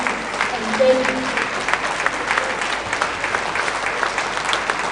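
Audience applause at an engineering association investiture ceremony, steady dense clapping from a full hall lasting throughout, with voices audible beneath it.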